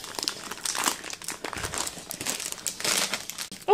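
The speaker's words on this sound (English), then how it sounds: "A plastic bag I can't open." A plastic bag from inside a cardboard candy box crinkles and rustles close up as someone struggles to open it, in irregular bursts that swell louder toward the end, with no talking.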